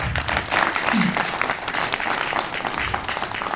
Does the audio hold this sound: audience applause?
yes